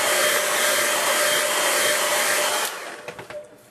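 A hair dryer blows a steady, loud whoosh over a wet watercolour painting of Dartmoor rocks, then cuts off with a few clicks and handling sounds near the end.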